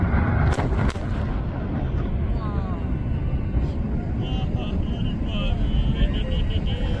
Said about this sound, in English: there was apparently some kind of a massive explosion today